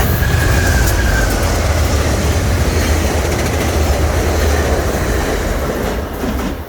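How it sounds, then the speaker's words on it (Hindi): VIA Rail passenger train running along a shared track in Toronto, a loud, steady rumble of wheels on rails lasting throughout, close by, with a faint squeal early on and no talking. "अब ये ट्रेन दूसरी है, उसी ट्रैक को यूज़ कर रहे हैं। ये विया ट्रेन है।"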